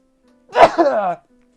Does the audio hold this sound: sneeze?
yes